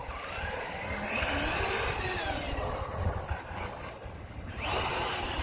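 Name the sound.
Redcat RC-MT10E electric RC truck, metal spur gear and tires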